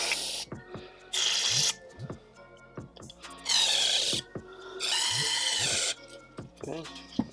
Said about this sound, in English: I'm just going to take some parts brake cleaner,